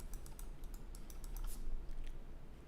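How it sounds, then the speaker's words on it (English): Keys on a computer keyboard are tapped in a quick, light series of close clicks over a steady low hum, with no talking. "If I hit the escape button."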